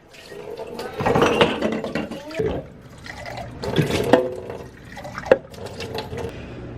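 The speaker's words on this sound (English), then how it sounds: "I just make a stack and rinse them out." Running tap water splashes and gurgles as dishes are rinsed, with irregular bursts of spray and clinks under the steady flow.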